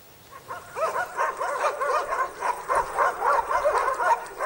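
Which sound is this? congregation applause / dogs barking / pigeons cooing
dogs barking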